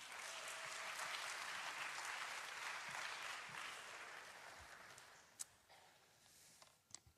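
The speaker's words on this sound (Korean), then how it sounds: "나오실 때 박수로 환영하겠습니다." A congregation in a school chapel applauds to welcome a guest speaker, a dense, steady clapping that swells briefly, then thins and fades to a few scattered claps near the end.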